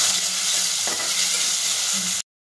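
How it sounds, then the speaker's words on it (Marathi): A chopped medium onion sautés in a pan with ginger, garlic and chili paste, giving a dense, steady frying hiss with a faint stir or two before it cuts off abruptly. "एक मीडियम आकाराचा कांदा कट करून घेतलेला आहे, ते टाकून घ्यायचं आणि परतून घ्यायचं।"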